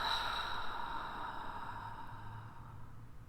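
A single long, steady exhale during guided belly breathing, close and soft, trailing off gently over a few seconds in a quiet room.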